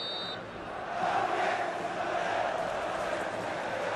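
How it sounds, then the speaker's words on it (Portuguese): Botafogo supporters roar and chant inside the Maracanã during a 2000 Brasileirão match against Flamengo, a distant, sustained crowd swell that rises after a brief dip and holds steady. "Olha a torcida do Botafogo fazendo uma grande festa no Maracanã em menor número."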